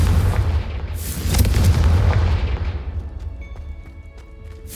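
A Confringo blasting spell goes off in Hogwarts Legacy as a loud, booming explosion with a sharp crack, its rumble trailing off over a few seconds, with no talk over it.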